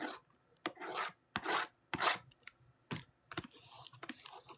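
Cellophane wrapper being peeled and torn off a trading card box, heard as a series of close, crisp crinkling and rasping bursts separated by short quiet gaps, with no speech.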